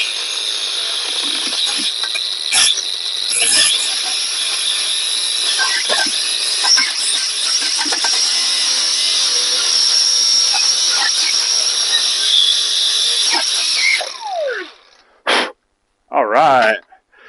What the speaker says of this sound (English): we're just going to take the cutoff wheel here,